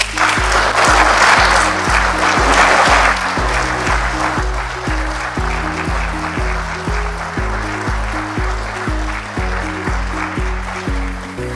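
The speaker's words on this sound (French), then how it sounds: "je veux demander à la plénière d'applaudir très fort" A plenary assembly applauds loudly, the broadband clapping strongest at the start and then thinning beneath a prominent stepping musical chord pattern that carries on to the end.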